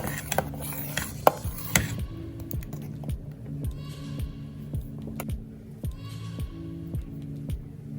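A spoon stirs a thick rasavalli yam and sago kali with cardamom, giving a steady run of close scraping and knocking strokes against the pot, louder and busier at first, then settling into a regular rhythm, with no talking.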